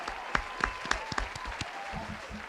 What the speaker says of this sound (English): I'm gonna give a round of applause for that.